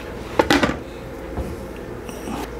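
A lid set down onto a cooking pot of simmering chicken adobo, a short cluster of metallic clanks and rattles followed by quiet kitchen ambience.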